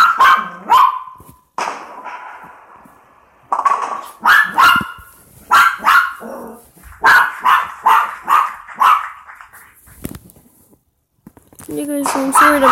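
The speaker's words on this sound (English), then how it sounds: "my dog's barking" A dog barks repeatedly at close range in uneven bursts with short pauses, loud and sharp, and a person talks between the barks.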